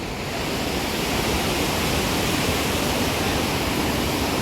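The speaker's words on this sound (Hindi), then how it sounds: "नीचे बहती हुई अलकनंदा नदी" The Alaknanda river rushes below a bridge at Govindghat, a loud, dense, unbroken roar of fast mountain water with no pauses.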